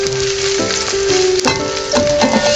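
Spring onion toasting in a pan sizzles as a steady, close frying hiss, with a few soft stirring scrapes and no voices.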